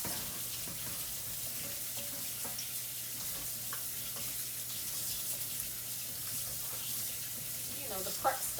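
Running tap water pours steadily over cut potatoes in a kitchen, a constant close hiss with faint clatters and splashes throughout.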